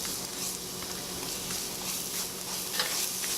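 Minced garlic sizzles in a teaspoon of hot oil in a pan, making a steady, fairly soft hiss with faint stirring noises throughout.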